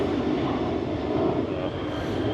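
An EasyJet airliner passes overhead near Gatwick, a steady, loud broadband jet roar that fills the whole moment without a break.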